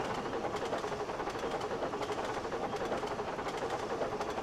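A steady rumble of a train rolling along rails in the video game Trainz, with faint rhythmic clicks running through it, continuous and fairly loud throughout.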